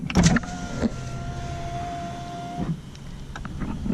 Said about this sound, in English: Multi-function steering wheel, electric windows all around, auto down,